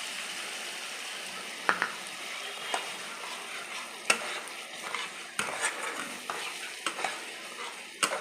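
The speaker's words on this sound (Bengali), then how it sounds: "যতক্ষণ না মশলা থেকে তেল ছাড়ে ততক্ষণ আমাকে ভালো করে সব দিয়ে কষিয়ে দিতে হবে।" Masala with ground cashew stir-fried in oil, a steady soft sizzle broken by repeated spoon scrapes and light clinks against the pan, close and moderately quiet, with no talking.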